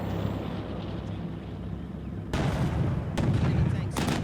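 Gunfire and heavy cannon blasts ring out in the Cold War tank battle game Combat Mission, starting as a low rumble and then breaking into loud, sustained bursts of firing that follow one another closely.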